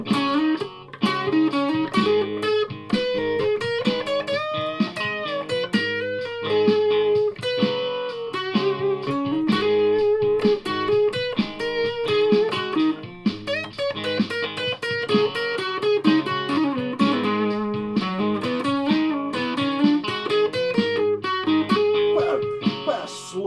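Slow, chugging distorted electric guitar rhythm from a 1993 Washburn Mercury series guitar, heavy and grinding, playing steadily and loudly throughout with no voices.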